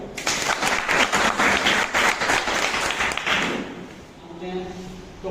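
An audience at an event claps loudly with a few thumps for about three and a half seconds, then the applause fades while someone speaks over and after it.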